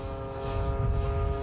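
A radio-controlled model of a North American Harvard, the radial-engine warbird, flying at an RC event, giving a brief, steady droning engine hum with clear harmonic tones, moderately loud, with no talk over it.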